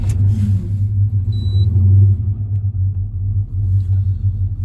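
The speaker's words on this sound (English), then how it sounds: "All right, so let's go ahead and start up the vehicle." A 1970 Chevrolet El Camino's engine rumbles loud and close at idle just after starting, a deep steady low burble with slight swells, no voices over it.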